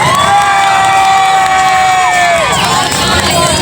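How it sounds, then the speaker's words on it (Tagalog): Loud crowd cheering and shouting at a Jollibee restaurant grand opening in Naic, Cavite, with children's high voices and whoops over sustained noise from a packed audience, close and energetic throughout. "isang malakas na palakpakan na may kasamang hiyawan"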